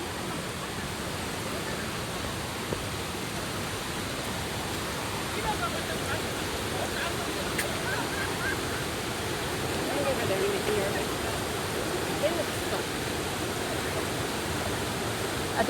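Bogyeongsa Waterfall at Naeyeonsan, South Korea, a loud, steady, broadband roar of falling water that stays constant and close throughout.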